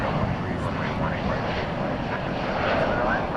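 A Frontier Airbus A320neo airliner passes at an airport, a steady, fairly distant engine roar that stays even throughout, with a voice speaking over it.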